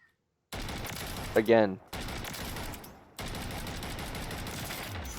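Sidewinder gunfire in Modern Warfare 3, steady slow-cadence automatic shots running continuously with a brief pause, loud and close, with a voice speaking briefly over the shooting.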